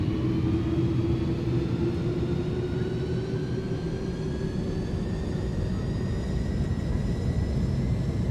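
Simulated Airbus A310 jet engines spooling up for takeoff in Microsoft Flight Simulator. A loud, steady roar runs throughout with a low drone and several faint rising whine tones, and no voices are heard.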